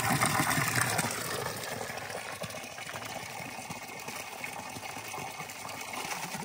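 Water runs steadily from a drinking fountain outdoors during a high-altitude running session. A continuous gushing hiss holds throughout, slightly louder at the start, with no voices.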